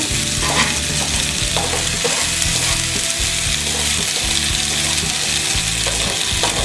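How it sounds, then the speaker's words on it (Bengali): Rice for Old Dhaka Haji-style biryani frying over a raised flame is stirred in a rhythmic, repeated scraping pattern over a loud, constant sizzle, with no voices. "দিয়ে এবার আমি চালটাকে ভেজে নিব চুলার আঁচটা বাড়িয়ে দিয়ে। চালটা ভালো করে ভাজতে হবে।"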